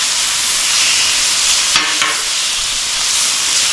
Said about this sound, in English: we're going to go ahead and put down our chicken now, since it takes a little longer to cook